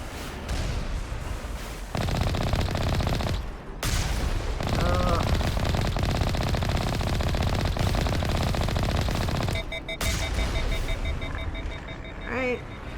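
Heavy, sustained gunfire and turret fire rattle nonstop in Mass Effect Legendary Edition, dense and loud with brief gaps, joined by electronic beeps and whines, with a voice faintly talking underneath.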